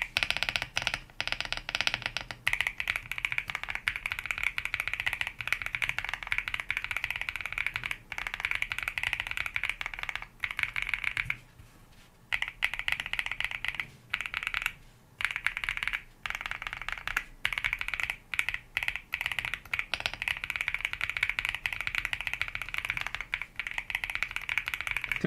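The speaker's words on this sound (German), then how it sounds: "Heavy Linear Switches mit einer Operating Force von 63 Gramm, also schon relativ schwer für einen linearen Switch." Heavy MMD Princess linear switches, 63-gram operating force, clatter under steady typing on a mechanical keyboard: a dense, continuous stream of close, crisp keystrokes with a few short pauses, no voices.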